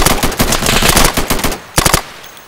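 Rapid automatic gunfire bursts in the video game Insurgency, a dense rattling volley followed by a brief pause and a shorter second burst, loud and close.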